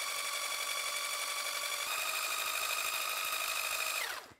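An electric mixer whips eggs into meringue with a high, steady whirring hum that shifts pitch slightly midway, then winds down and stops at the end, heard alone without talk.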